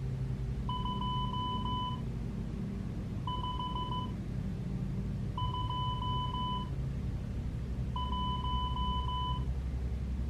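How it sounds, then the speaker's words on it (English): Morse code beeps sent as four evenly spaced bursts of rapid tone pulses, each burst a cluster of short dits, over a steady low rumbling background, with no voices. "I'm going to send it in Morse code."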